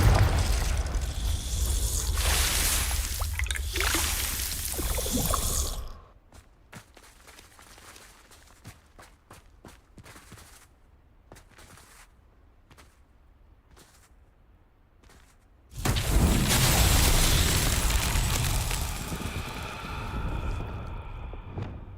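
Confringo blasting spells in Hogwarts Legacy go off as loud bursts and booms, with a quieter stretch of scattered sharp cracks and thuds between two dense, noisy blasts.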